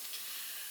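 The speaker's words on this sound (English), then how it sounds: "we getting a steady stream of steam over here behind us on the old canner" Steam hisses steadily from an old All-American pressure canner being used to can broccoli, a faint, even, airy rush with no break across the moment.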